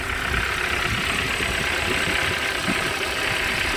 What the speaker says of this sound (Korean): 이제 해당 차량 이제 막 시동 걸었으니까 냉간실하고 봐주시면 될 것 같습니다